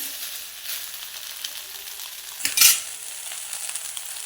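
Soybean fry is stirred in a hot pan, with a soft continuous sizzle broken by a brief louder scrape and clatter of the spatula midway.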